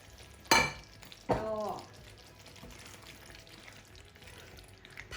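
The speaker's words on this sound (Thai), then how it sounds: "ผัดไปสักสองนาทีนะคะ" Large blanched prawns tipped into a hot pan for stir-frying give two sharp, loud sizzling bursts about a second apart, then settle into a faint, low crackle.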